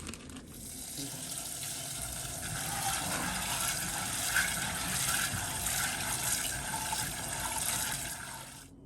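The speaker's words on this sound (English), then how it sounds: "show you guys how I rinse and wash my dried pinto beans" Dried pinto beans being rinsed under a running kitchen tap, a continuous close rush of water splashing into a bowl with a soft, steady hiss throughout.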